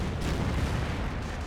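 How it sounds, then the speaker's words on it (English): Strafing run from the air in Company of Heroes, a steady roaring rumble of heavy gunfire and explosions sustained and loud for the whole brief moment, with no clear separate shots. "Another strafing run there, gets all of these squads again."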